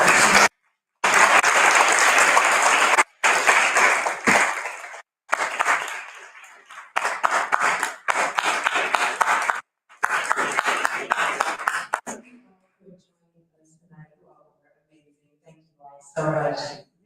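A panel audience applauds in bursts, with loud broadband clapping and crowd noise broken by short gaps, then fading to quiet with faint voices near the end.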